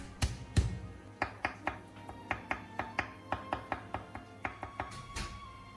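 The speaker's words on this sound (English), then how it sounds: "While waiting, finely chop 1 clove of garlic." A single garlic clove is chopped finely with a knife on a board, giving a steady run of about twenty crisp, close taps in an even rhythm, with a few heavier knocks at the start.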